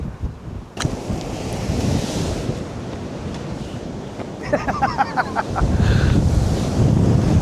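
Strong wind roars across a North Wales seashore at Pwllheli during extreme weather, buffeting the microphone continuously with gusty rumble over the surf, loud and close throughout.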